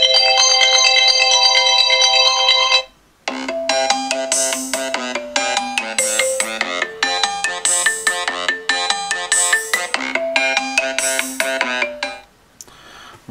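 An iPhone 7 ringtone plays loudly and close: a sustained chime, a short pause, then a bright, repeating melodic phrase of quick plucked notes that fades near the end.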